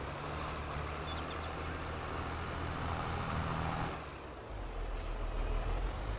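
Tractor air brakes being slammed in Farming Simulator 22, a loud, steady vehicle rumble that drops briefly and then returns with a burst of hiss near the end.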